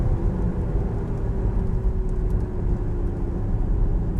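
A 2021 Mazda MX-30 electric car coasting off the accelerator with maximum regenerative braking: a steady low road rumble with a faint motor whine, continuous and even throughout.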